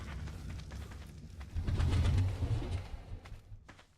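Argentavis attack bird in ARK Survival Evolved gives low, cooing calls, a swelling mid-clip burst over steady game ambience, fairly quiet and with no talking.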